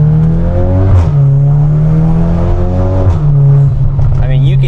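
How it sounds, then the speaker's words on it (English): A Volkswagen Golf R with a Milltek turboback exhaust revs up on light throttle taps and drops back a few times, producing a rumbling exhaust burble that rises and falls, loud and close, echoing off a wall. "you can just barely tap the throttle and it'll do some type of burbles"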